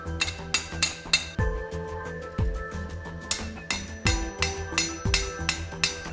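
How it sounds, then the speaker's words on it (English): Repeated metal-on-metal hammer blows drive a drift through a slot-punched hole in steel at a forge while making chest hardware, landing in uneven bursts of ringing clanks with dull low thuds. "A drift is used to increase the hole's size."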